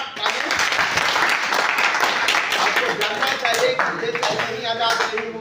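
Audience at a Hindi talk or speech event giving loud, sustained clapping and cheering that fills the room for several seconds.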